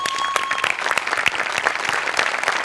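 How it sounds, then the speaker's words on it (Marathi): Audience applause in a live Marathi comedy stage show, dense steady clapping from a crowd sustained throughout, with no talk over it. "एकदा जोरदार टाळ्या सगळ्यांसाठी"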